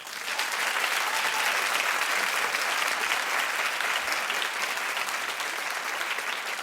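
A studio audience claps steadily and loudly on a daytime talk show set, a dense, sustained round of applause that holds for several seconds without letting up.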